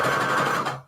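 A domestic sewing machine runs in one steady, close whirring burst while stitching Christmas fabric and lace trim, then winds down and stops near the end.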